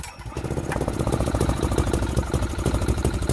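A Chinese quad engine with its stock exhaust catches after a pull start and settles into a loud, lumpy idle close by, its rapid regular pulsing thump continuing steadily with no talk.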